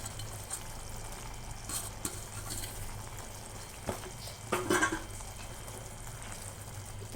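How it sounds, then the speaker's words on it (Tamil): Soft bubbling and sizzling of egg masala gravy simmering in a pan, with occasional scraping stirs and clinks of a utensil, fairly quiet. "இது போட்டு நல்லா கிளறி ஒரு 2 நிமிஷம் நல்லா கொஞ்சம் கொதிக்க விடணும்"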